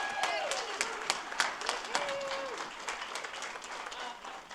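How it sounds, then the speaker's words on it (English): An audience at a school district honor roll ceremony gives honoree Kim another round of applause. The clapping is moderately quiet and steady, with a few whoops and voices mixed in. "Let's give Kim another round of applause."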